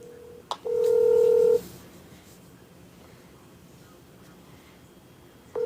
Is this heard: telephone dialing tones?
yes